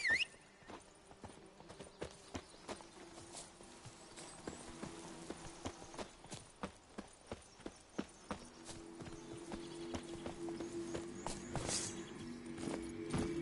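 Hoofbeats of Roach, Geralt's horse in the Witcher 3 video game, a clear clip-clop walking rhythm of regular, crisp hoof strikes close by, steady and alone for most of the stretch, with a low rumble building near the end.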